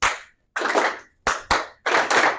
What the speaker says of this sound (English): the silly stuff of clapping once, clap twice